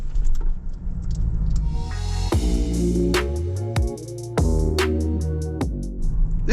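GAC M8 plug-in hybrid people mover accelerating from 0 to 100 km/h, a steady rumbling engine note rising in pitch across several distinct gear changes, loud and continuous inside the cabin.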